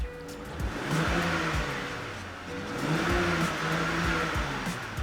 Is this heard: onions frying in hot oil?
no